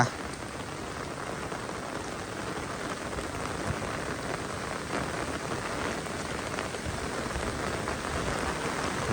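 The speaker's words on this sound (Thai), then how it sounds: "ฝนเริ่มตกอีกแล้ว" Steady rain falls outdoors, a continuous even hiss of drops striking surfaces that stays unchanged for the whole stretch, with no voices and no other sounds.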